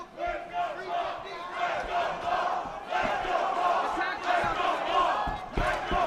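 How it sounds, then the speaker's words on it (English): An Arizona crowd at an LFA mixed martial arts event roars and chants loudly and steadily for fighter Paul Margitas, with surging waves of cheering filling the whole stretch. "Arizona faithful cheering on Paul Margitas."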